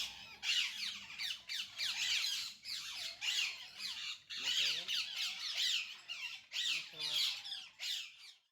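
A parrot at the Junagadh zoological park squawks in harsh, repeated bursts that come in an irregular rhythm, loud and close, with short gaps between calls.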